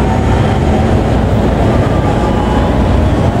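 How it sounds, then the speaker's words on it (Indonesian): A Sawung Galih passenger train pulls into Cikampek station, giving a loud, steady rumble and roar of rolling wagons with no break throughout and no voices. "datang masuk stasiun Cikampek kereta api Sawung Galih"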